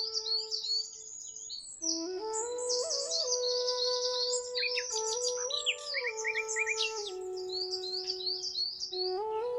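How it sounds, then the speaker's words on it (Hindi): Cartoon birds chirp and trill around a pond, with several high, fast, overlapping tweets and whistles and a steady sustained tone underneath, clear and continuous with no talking. "वहाँ चिड़िया, तोते, कबूतर और कौवे सब रहते थे।"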